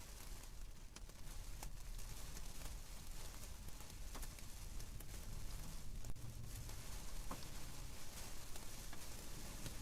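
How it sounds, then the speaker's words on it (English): Heavy rain with a little hail pouring down in a confirmed tornado warning near Wilson, a steady dense hiss with scattered sharper ticks, faint and continuous for the whole stretch. "right now a lot of rain coming down, and looks like a little bit of hail as well"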